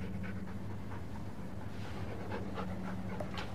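A dog pants steadily in a quiet indoor room, soft rapid breaths under a constant low hum, with no one speaking.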